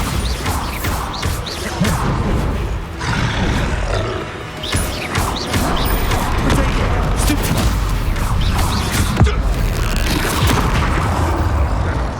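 Bombarda explosion spells cast in Hogwarts Legacy boom and crash repeatedly, loud rumbling blasts layered with debris and roaring effects throughout.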